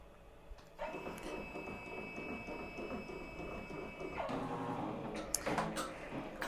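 A Ricoma embroidery machine stitching out a design on a baby blanket, a steady fast mechanical whir and rattle with a sustained whine, shifting pitch partway through, plus a few sharp clicks near the end.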